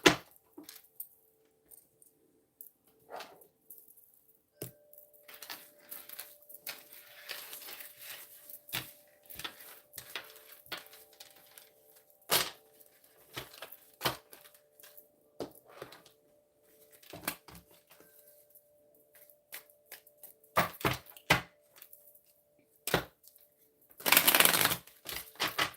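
Two tarot card decks combined into one thick stack are shuffled in repeated crisp riffling and slapping bursts, close and fairly quiet, with brief pauses between passes and no talking.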